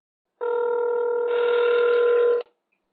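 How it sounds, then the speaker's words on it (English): A telephone tone sounds at the start of an outgoing call to a sheriff's office. It is a single steady, loud electronic tone lasting about two seconds, heard alone before it cuts off. "The following audio is my phone call to the sheriff."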